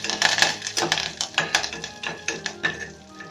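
Dried red chillies and curry leaves fry in a pan with a crackling sizzle, broken by repeated close spoon scrapes and clinks against the pan, a quick irregular rhythm of stirring strokes with no talk.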